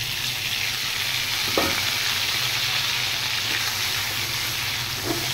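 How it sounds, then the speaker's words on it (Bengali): Eggplant fries in hilsa fish oil with a steady, close sizzle and crackle, broken by a few soft stirring scrapes and no talk. "এবার তেলটা সহ আমি বেগুনটা ভেজে নেব"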